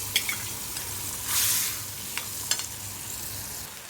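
Tomato and coriander paste fries in a pan for a prawn curry, giving a soft, steady sizzle. A few faint scrapes and clicks of stirring come through, and there is no talk.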